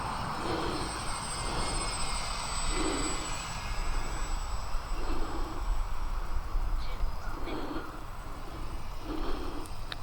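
A Micro Draco RC model plane flies around a yard, its small electric motor buzzing steadily with a high whine, rising and falling in pitch as it passes nearby.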